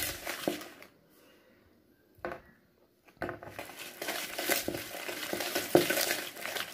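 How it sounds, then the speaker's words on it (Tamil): Hand whisking of a coffee mixture for homemade cappuccino in a cup, bursts of rapid scraping and clinking strokes, close and fairly quiet, with brief pauses between the whisking spells. "நல்லா விஸ்க வச்சு நல்லா பீட் பண்ணிக்கிங்க"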